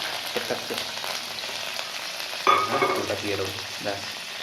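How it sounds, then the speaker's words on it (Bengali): Finely chopped garlic dropped into hot oil for restaurant-style fried rice, giving a sudden loud sizzle partway through that settles into steady frying crackle, with a utensil stirring and scraping before and after. "রসুন ছোটো ছোটো করে কুচি করে কেটে নেওয়া হয়েছে এবার তেলের মধ্যে এটা পড়ে"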